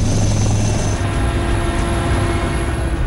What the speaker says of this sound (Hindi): वायुसेना का एक हेलीकॉप्टर सुबह के समय एक गांव पहुंचा जहां कई लोग फंसे हुए थे।